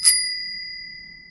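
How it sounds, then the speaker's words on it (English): A single bicycle bell strike rings out clearly at the start, its bright metallic tone fading slowly over about a second with no other sounds. "that was a bicycle bell"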